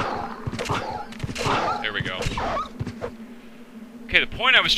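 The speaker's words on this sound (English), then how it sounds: "while those goddamn dogs refuse to die" Dogs attacking in the survival horror game Resident Evil: Code Veronica X, with snarls, yelps and whimpers amid sharp gunshot-like impacts and game effects, heard under someone talking over the action.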